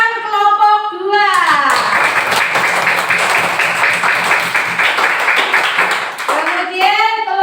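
Classroom applause for a student discussion group: a burst of clapping from many hands starts after a teacher's voice, runs steadily for about five seconds, then fades as talking resumes.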